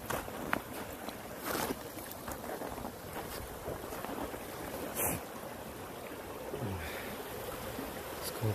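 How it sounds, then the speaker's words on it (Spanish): A stream flows out of Bode Lake along a trail, a steady burbling rush heard outdoors with gusts of wind buffeting the microphone and a few sharp knocks, no talk. "Aquí sale todo el agua del lago"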